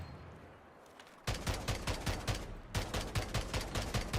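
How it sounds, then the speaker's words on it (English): Rapid automatic gunfire in a video game during a Gravity Crystal Farm stream, with a faint lead-in and then two loud sustained bursts of evenly spaced shots separated by a short gap. "I can shoot without holding weapon."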